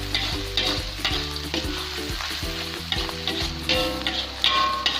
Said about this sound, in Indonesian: Goreng dulu ya teman-teman ya, sampai dia warnanya kuning emas atau kuning kecoklatan